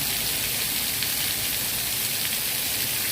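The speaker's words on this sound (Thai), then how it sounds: "ฝนตกหนักนะคะมีลมกันโชกคุณจะต้องไปแอบซ่อนนะคะ" Heavy rain pours during a storm in Phuket, a dense, steady hiss of drops hitting surfaces that stays loud and unbroken throughout.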